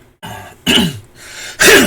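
Three loud, rough throat clearings in quick succession, close by, with brief gaps between them and no talking.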